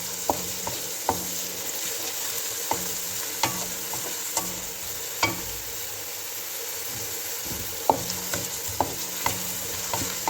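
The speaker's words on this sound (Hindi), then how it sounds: "सबसे पहले हम इसका प्याज डाल लेंगे जो काटा हुआ है। इसको ज़रा सोते करते हैं।" Chopped onions sauté in a pan for a mixed vegetable dish, a quiet, steady sizzle broken by scattered sharp clicks and scrapes of a spoon stirring, with no talking.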